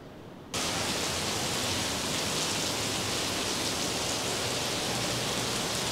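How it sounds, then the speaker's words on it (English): Heavy rain pours down in Makati, Manila, starting abruptly after a brief quiet moment, then holding as a dense, steady, loud hiss with no voices. "as you can see, it is absolutely chucking it down with rain"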